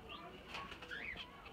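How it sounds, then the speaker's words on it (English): Pigeons or doves coo and flap their wings in a backyard garden near a fig tree, with brief, close, soft cooing and fluttering over light background noise. "Oh, look at the little birds."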